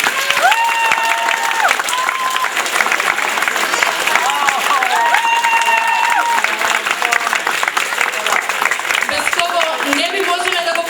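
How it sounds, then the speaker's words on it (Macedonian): Dense, steady applause from a large audience at a folk dance ensemble's 40th anniversary jubilee concert, filling the whole stretch at close range, with tonal voices or music showing through the clapping. "Голем аплауз."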